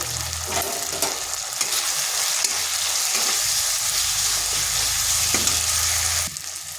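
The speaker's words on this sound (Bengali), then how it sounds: "এরপর ভালোভাবে মশলাটা কষে নিলাম" Ground turmeric, cumin and coriander with salt being stir-fried in a pan for a bitter gourd curry, a steady close sizzle with scraping stirs throughout, no talk.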